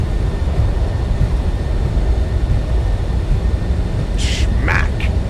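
Steady roaring rush of jet thrust reversers on an FSS E-Jet landing at London City in MSFS2024, loud and continuous in the cockpit, with a few brief sharp clicks near the end and a voice in the cockpit.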